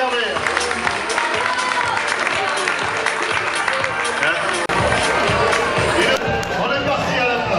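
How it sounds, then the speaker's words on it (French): A crowd applauds and cheers at a football club's fashion show parade, a thick continuous roar of clapping with an announcer talking loudly over it the whole time. "on l'applaudit très fort, on l'encourage"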